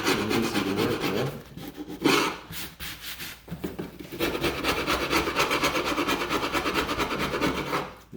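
Old Steinway piano back rail being scraped by hand to strip felt residue, a steady close rasping and rubbing that runs nearly continuously with a couple of brief pauses.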